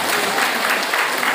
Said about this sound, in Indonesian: Silahkan tepuk tangan buat Maya Bunda.